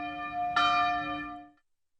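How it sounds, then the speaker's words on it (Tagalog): A church bell rings once, struck clearly and close, its bright metallic tone humming on and fading out over about a second. "Ang tunog ng kampana ng simbahan ay hudyat na magsisimula na ang misa."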